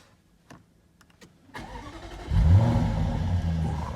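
A Jaguar F-Type SVR's 5-litre V8 starts up, a few faint clicks, then the starter whirs and the engine catches with a loud deep roar that settles into a rumbling high idle close by.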